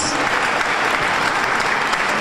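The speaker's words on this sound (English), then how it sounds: "Please give yourselves a round of applause." Dense, loud audience applause at a women's film festival event, a continuous wash of many hands clapping with no pauses.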